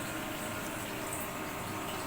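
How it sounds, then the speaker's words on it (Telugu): Water boils vigorously in a pot while biryani is being cooked, a steady, close, rushing bubbling hiss that runs without pause and with no talking. "ఇక్కడ వచ్చేసి మనకి వాటర్ బాగా మరలుతున్నాయి"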